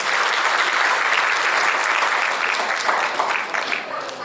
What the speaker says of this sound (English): So please give it a round of applause for everybody.